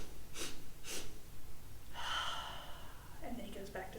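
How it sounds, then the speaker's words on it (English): Quick breaths of air drawn in through the nose during a children's yoga focus exercise, a couple of short separate sniffs followed by softer breathy sounds, close and fairly quiet. "I'm gonna take 3 little sniffs of air to bring my bunny back to life."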